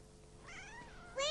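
A kitten perched up high meows. There is one drawn-out, rising meow at moderate distance, followed by a louder, sharper cry starting right at the end.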